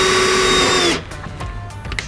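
A power drill whines loudly as it bores holes to mount a bracket during a Carli Pintop 4.5-inch lift installation, running steadily for about a second before stopping, followed by quieter shop clatter.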